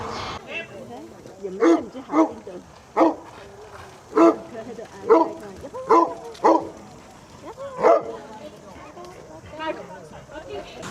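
A huntaway sheepdog at a farm show barks repeatedly in short, loud bursts at an irregular rhythm, fairly close, with some whiny yips between barks.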